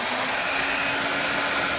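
A small handheld spot dryer built for dogs blows air while drying an elderly cat, giving a steady, loud, unbroken whoosh with no voices.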